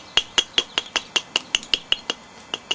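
Sharp, ringing clicks of flintknapping on novaculite stone while shaping a laurel leaf point, about a dozen close, evenly spaced strikes in a quick steady rhythm, each with a bright glassy tick.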